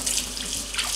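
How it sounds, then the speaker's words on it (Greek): Tap water runs steadily over pork neck chops being rinsed in a kitchen sink before cooking Greek-style, a close, continuous splashing hiss with no talking. "Έτσι λοιπόν τις ξεπλένω τις μπριζόλες κάτω από το τρεχούμενο νερό."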